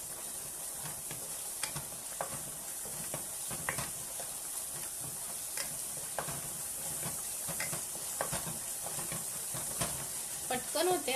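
Egg bhurji frying and being stirred in a pan after red chilli powder and turmeric go in, a steady sizzle with repeated scraping strokes of the spoon throughout, close up, with no talk over it.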